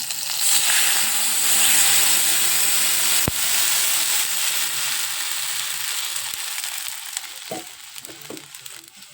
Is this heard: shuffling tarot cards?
no